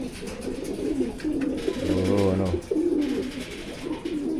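Pigeons cooing in a breeders loft, where two birds are fighting: a close, resonant rolling coo rises over a busy background of bird rustling and someone talking, lasting a couple of seconds.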